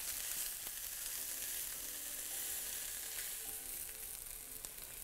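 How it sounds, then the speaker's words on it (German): Seitan and celery frying in a pan give off a steady, dense sizzle that stays even and close throughout, with no voices. "Das Ganze auch nochmal 5 Minuten anbraten, damit der Seitan und das Gemüse auch die schönen Röstaromen bekommen."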